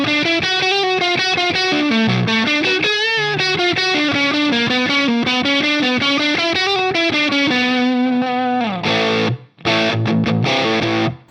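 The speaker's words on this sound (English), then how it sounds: "Nice crunch." An electric guitar plays a crunch tone through a Line 6 Helix amp model, with driven chords and riffs strummed steadily and loudly for over ten seconds, ending in choppy staccato hits, with no voices.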